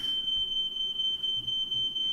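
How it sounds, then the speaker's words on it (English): A smoke or fire alarm sounds somewhere in a flat, a steady high-pitched electronic tone holding on continuously at moderate distance over low background rumble. "you might be able to hear fire alarms"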